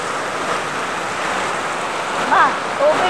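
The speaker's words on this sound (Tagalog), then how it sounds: "Ay, naabutan ako ng ulan." Heavy rain pours down in a dense, steady hiss that fills the whole stretch, with a faint chirping sound near the end.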